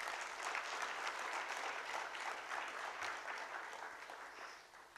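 A conference audience applauds student presenters with steady, dense clapping that holds for about five seconds before easing slightly at the end.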